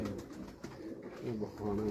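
Rare-breed pigeons coo softly in a loft, low rolling calls repeating faintly and close by.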